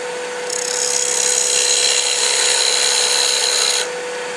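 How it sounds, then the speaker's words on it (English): Fingernail-grind bowl gouge with a double bevel cutting a wood face on a lathe for an off-center medallion: a steady, loud hissing scrape over the motor's hum that runs about three seconds, then drops back to the motor alone. "I'm going to clean up that face using the fingernail grind gouge."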